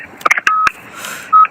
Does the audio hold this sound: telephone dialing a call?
yes